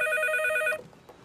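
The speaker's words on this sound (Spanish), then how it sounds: "pero esa muchacha no oye el teléfono" A telephone rings in a home with a loud, bright electronic trill that cuts off abruptly partway through, leaving quiet room tone.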